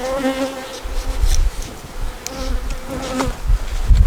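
Honey bees buzz at an open hive during an inspection, a dense, continuous close-up drone with a few louder bees passing near.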